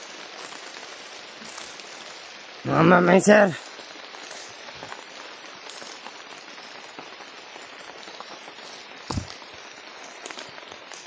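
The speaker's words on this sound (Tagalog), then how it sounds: "Lakas ng ulan, mga idol." Heavy rain pours in a steady, dense hiss throughout, loud and close, with a brief burst of a voice speaking early on and a single knock partway through.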